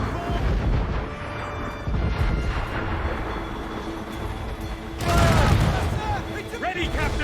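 Ship cannon broadsides in Assassin's Creed Rogue, fired among icy, well-guarded waters: heavy booming volleys rumble in two surges, the louder one near the end, with a battle music bed and shouted voices underneath.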